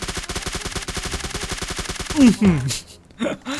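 A fast, even string of gunshots in PUBG New State, about two dozen rapid rounds emptying a magazine, loud and close, followed by a few scattered sounds and a voice.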